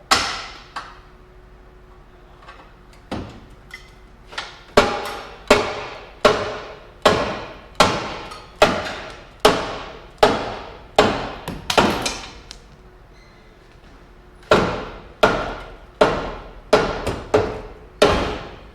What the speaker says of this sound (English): we've still got one bolt being stubborn. Use your good punch,